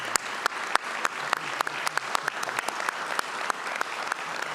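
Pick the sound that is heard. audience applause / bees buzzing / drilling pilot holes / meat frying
audience applause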